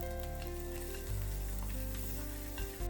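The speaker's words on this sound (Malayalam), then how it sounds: "കുറച്ച് എണ്ണ ചൂടായിട്ട് വരുമ്പോൾ അതിലേക്ക് കുറച്ച് ചുവന്നുള്ളിയും പച്ചമുളകും കറിവേപ്പിലയും കൂടി ചേർത്ത് കൊടുക്കാം." Shallots, green chilies and curry leaves frying in hot oil, a loud close sizzle that flares sharply as the ingredients hit the pan and then crackles steadily with occasional stirring.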